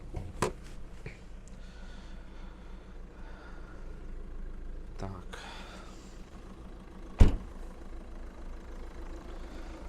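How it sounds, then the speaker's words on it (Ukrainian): A Peugeot 3008 1.6 HDi diesel idles evenly with the bonnet open, a steady low rumble broken by a couple of sharp clicks or knocks nearby. "Працює автомобіль рівномірно, без зауважень."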